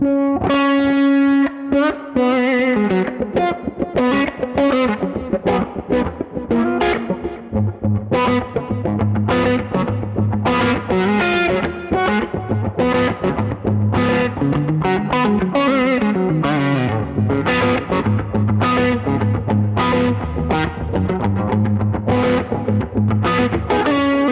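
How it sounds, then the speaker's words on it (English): Electric guitar through the Antelope Filter auto-wah, a Q-Tron-style envelope filter in Neural DSP's Archetype John Mayer X plugin, played as a loud, continuous rhythmic part with sweeping, quacky filtered chords and notes, alone with no talking. "The Antelope Filter, I mean, it's like the Qtron thing, so it's like an auto wah."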